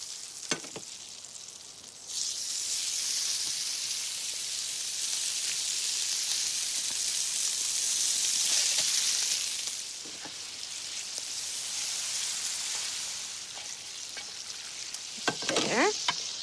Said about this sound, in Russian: Я жарю мясо в 2 приема, так как мне не хочется, чтобы сковорода сильно остывала.